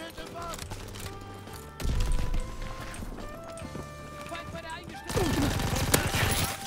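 Rapid bursts of video game gunfire rattle under a dense layer of game music and effects while someone talks.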